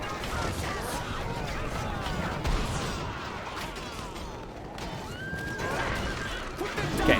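Horses whinny among cavalry fighting in the strategy game LotR: The Battle for Middle-earth II, a few neighs rising over a steady battle din of clashing and rumbling, with voices talking underneath.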